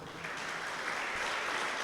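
Congregation applause in a church before a sermon, a brief, steady burst of many hands clapping at moderate volume.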